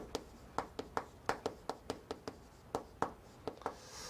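Rapid chalk-like taps and strokes land on a lecture board, a quick irregular run of close, crisp clicks with no talk over them.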